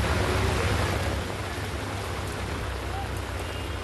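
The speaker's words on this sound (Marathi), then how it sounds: "मुंबईमध्ये धुवाधार पाऊस सुरू आहे" Heavy monsoon rain in Mumbai falls as a loud, steady, broadband hiss with a low rumbling undertone, continuous throughout with no clear voices.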